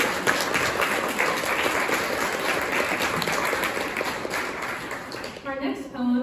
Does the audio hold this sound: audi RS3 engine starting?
no